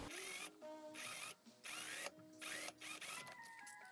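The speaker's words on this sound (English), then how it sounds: "So I'm just gonna sew this together and overlock" A sewing machine and overlocker stitching a seam on silky pants, with a fast, steady mechanical whir that runs in several bursts, broken by short pauses, close and fairly loud.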